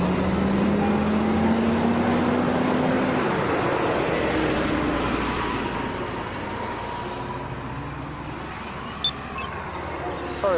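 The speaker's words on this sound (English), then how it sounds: "It was a school bus." A privately operated school bus passes on a street, its broad engine and road rumble loud at first and slowly fading as it moves away, with a faint outdoor background after it goes.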